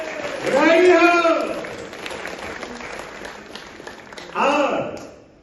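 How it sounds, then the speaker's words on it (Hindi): A crowd at an International Women's Day gathering applauds in a moderate, steady patter of many hands, with a loud voice calling out over it at the start and again near the end. "एक बार हम अपनी नारी शक्तियों के लिए ताली बजाएं"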